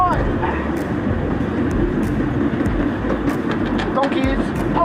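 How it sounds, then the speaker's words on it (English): Mini park train ride in Phuket, Thailand, giving a continuous close rumble with faint clacking and rattles, while someone talks over it. "Hope you guys enjoying the train. We're actually cruising around."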